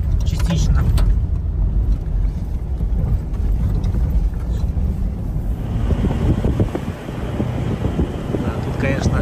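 An off-road vehicle drives a dirt field road that runs along a gorge toward the Kanzhol plateau in the Caucasus mountains. A steady low engine and road rumble continues throughout, with wind buffeting the microphone.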